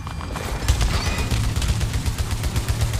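Rapid gunfire from the Tachyomatic Carbine in Returnal sounds as a dense, fast, steady stream of loud shots running nonstop across the short stretch, layered with game effects.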